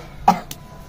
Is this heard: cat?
no